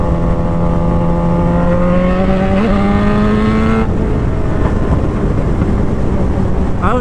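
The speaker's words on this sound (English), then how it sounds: "I don't know if you can hear those pops" A Suzuki GSX-R600 motorcycle with a flash tune holds high, loud revs that climb steadily, the engine note rising before it falls away. A few faint crackling exhaust pops come through near the end.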